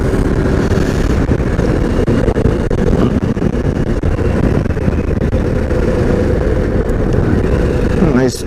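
A motorcycle engine drones steadily with loud rumbling wind noise while an adventure bike cruises in 4th gear at about 50 mph, continuous and close with no clear breaks.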